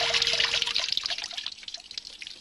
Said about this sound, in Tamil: ஏன்பா இப்படி தண்ணியை கீழே கொட்டி வீட்டையே நாசம் பண்றீங்க?